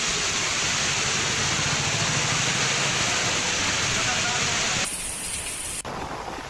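Heavy monsoon rain falls over flooded roads in the Hadoti region of Rajasthan, a dense, loud, continuous hiss that drops slightly in level near the end.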